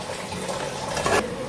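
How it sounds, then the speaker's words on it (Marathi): Water poured into a pan of dried prawns for a Maharashtrian dry prawn dish, a short steady splashing gush that swells briefly near the end, heard alone. "यात आपण याच्यात पाणी टाकतोय"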